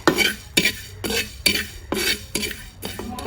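Chana dal roasts in a pan while a spoon scrapes and stirs it in quick rhythmic strokes, about eight close, gritty rattling sweeps with faint sizzling between, no talk.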